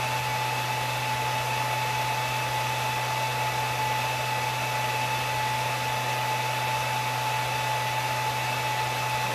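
A cooling fan blows steadily on a chunk of copper heatsink, a constant close, even whoosh with a faint hum and no change in pitch throughout.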